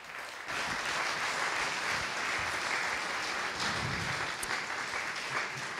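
Audience applause at an awards ceremony launching trophies, steady dense clapping that starts abruptly after a brief pause and holds fairly loud and even throughout, with no talking over it.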